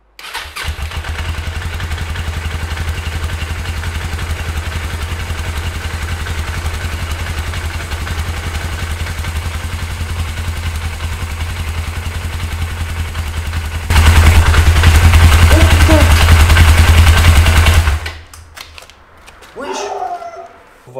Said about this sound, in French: Je vais essayer de la démarrer